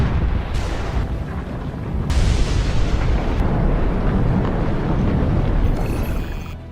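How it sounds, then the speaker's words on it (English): Deep booming blasts from the Hunga Tonga underwater volcano eruption in the Tongan archipelago, heavy rumbling bangs with several sharp onsets rolling into one another, loud and continuous with no talk. "The Hunga Tonga underwater volcano abruptly woke up from its sound sleep."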